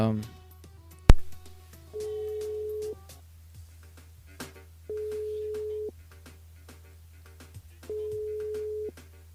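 Repeated telephone ring tones as a call goes through to a radio station switchboard: three steady electronic ring bursts, each about a second long, separated by pauses, with a sharp click near the start and faint talk in between.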